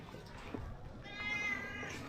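A hungry cat gives one drawn-out, wavering meow, faint and close, waiting to be fed on a quiet street in Angeles City, Philippines, with low background hum behind it.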